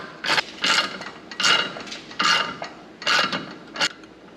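A tool cranks open the clutch on a Can-Am Maverick X3 during drive belt replacement, giving about six close, rhythmic bursts of ratcheting mechanical clicking separated by short pauses.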